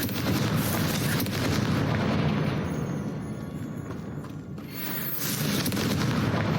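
The Confringo spell exploding in the video game Hogwarts Legacy, heavy booming blasts that roll on continuously, dip briefly, then swell back up, loud and close with no voices.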